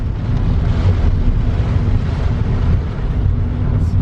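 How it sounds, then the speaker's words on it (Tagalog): Strong typhoon wind roars continuously across a farm in northern Luzon during Super Typhoon Leon, a loud, unbroken low rumble buffeting the microphone with no pauses. "Parang dinadala kami ng hangin kakabsat"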